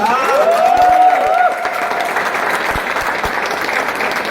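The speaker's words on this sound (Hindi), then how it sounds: "चलिए पप्पू जी के पिताजी के लिए एक जोरदार तालियां" An audience at a gathering claps for an honoree's father, a moderate round of applause beneath a sustained tonal sound at the start, then settling into steadier clapping.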